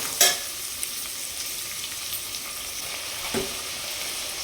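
Curry leaves and onion frying in hot oil, a steady close sizzle and crackle filling the clip, opening with a sharp burst as they hit the pan and a later stir-like thump.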